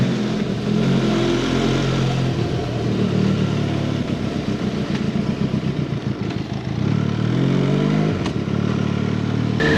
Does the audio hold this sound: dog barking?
no